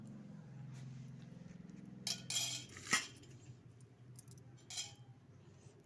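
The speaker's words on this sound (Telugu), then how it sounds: "అది కొంచెం చిక్కబడిన తర్వాత అన్నంలోకి కలపాలి" Hot rice being mixed with thickened rice starch water in a bowl, a few soft scrapes and clinks of a spoon against the dish over a low hum, quiet and close.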